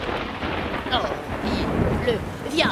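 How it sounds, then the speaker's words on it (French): Steady rain pours down outdoors as a dense, continuous hiss, with a low rumble beneath it and brief French-speaking voices breaking in now and then. "il s'est mis à pleuvoir exprès pour toi"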